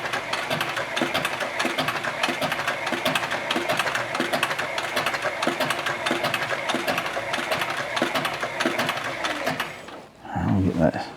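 A sewing machine stitches leather for a canteen in a fast, steady mechanical chatter that stops near the end, followed by a brief burst of other sound.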